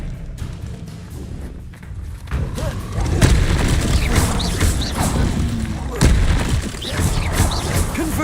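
Spell combat in Hogwarts Legacy, with a disarming charm cast amid other spells: repeated booming blasts and crashes over a dense, continuous wash of game effects, loud and close, with no speech.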